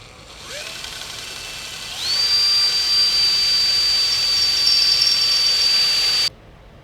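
A power drill whining into the body of a Les Paul Junior guitar, a steady high-pitched motor tone that rises in pitch as it bites in, runs for several seconds, then stops abruptly.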